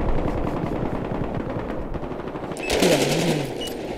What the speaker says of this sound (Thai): เฮ้ยมีคนยิงมึง